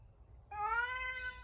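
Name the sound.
cat meowing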